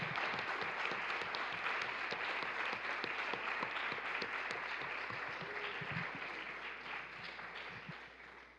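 A conference audience gives a sustained round of applause, moderately distant and even, with the clapping slowly fading toward the end.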